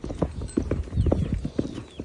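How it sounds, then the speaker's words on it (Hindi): Hooves of a mare being ridden clip-clop in a quick, uneven rhythm, close and fairly loud, with no talking. "मैं भी घोड़ी पर बैठकर"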